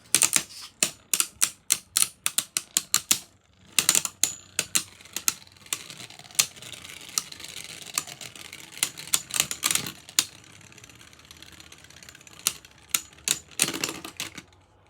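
Beyblade Burst tops clash in a stadium with rapid sharp plastic clicks and knocks, dense bursts of hits separated by brief pauses, close and crisp, with no talking.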